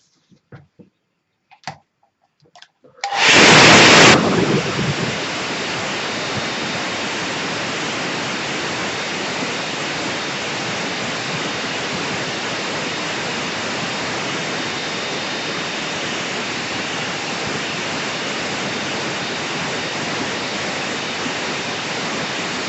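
A hair dryer starts up after a few soft clicks and then blows continuously for the rest of the time, a steady loud rushing roar used to dry a watercolour painting of a salt marsh.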